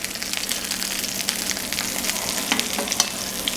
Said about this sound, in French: on peut venir aussi doucement arroser avec notre huile parfumée